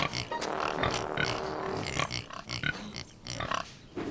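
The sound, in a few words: pigs oinking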